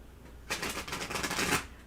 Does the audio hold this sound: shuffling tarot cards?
yes